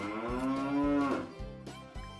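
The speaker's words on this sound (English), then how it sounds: "Farmer Brown bought a typical cattle ranch, raising ordinary steers." Ordinary steers on a cattle ranch moo in a long, loud bellow followed by shorter lowing calls, close by with no talk.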